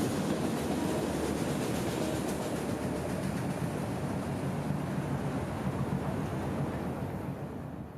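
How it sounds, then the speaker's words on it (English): A CSX auto-rack freight train rolls past on the rails, a steady, close wash of rumbling wheel noise and faint rhythmic clatter that fades slightly at the end. "today this train began in Baldwin as an extra auto-rack shuttle to Louisville, Kentucky"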